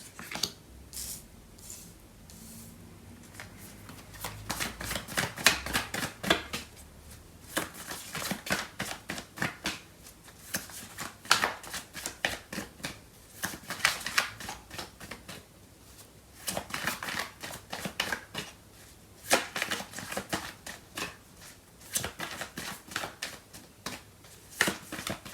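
Tarot cards being shuffled and drawn at close range, a steady run of crisp riffling flicks and slaps that repeat rhythmically throughout, with no talking.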